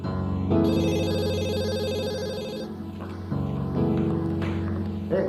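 A telephone rings in an Indonesian drama scene. The electronic ringtone is loud and clear, with repeating tonal phrases that pause briefly midway before sounding again, and no one speaks over it.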